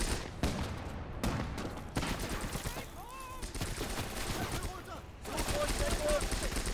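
Dense, continuous gunfire from the WWII strategy game Gates of Hell: rapid overlapping rifle and machine-gun bursts with booming impacts, loud and sustained throughout, with voices faintly mixed into the battle din.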